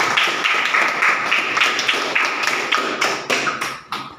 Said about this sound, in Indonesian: Tepuk tangan, Pak Hasan.